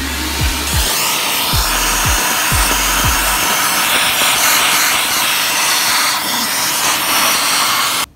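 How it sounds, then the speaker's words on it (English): A vacuum cleaner pulls dirt and debris out of a Toyota 1UZ-FE V8 engine during teardown, its steady loud whooshing roar running throughout with a few low thumps near the start and a sudden cutoff at the end. "And then I'm gonna vacuum it."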